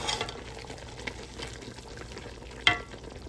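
A steel spoon stirs biryani in a silver pot with faint, soft scraping and a low sizzle. One sharp metallic clink stands out near the end, and no one speaks.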